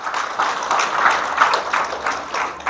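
Audience applause during a Good Friday church sermon, a steady wash of clapping from a crowd filling the whole moment, moderately loud with slight swells and no talking over it.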